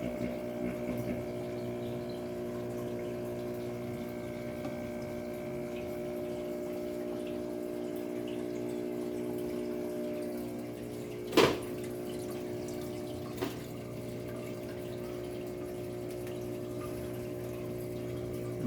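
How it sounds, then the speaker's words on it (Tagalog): Aquaspeed aquarium air pump humming steadily at low volume, a constant tonal drone with faint bubbling, and two small knocks partway through. "Aquarium air pump."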